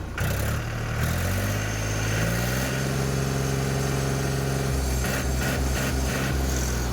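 A Mahindra B 275 DI tractor engine idles close by with a steady low rumble, its pitch shifting slightly a few times, with no voices.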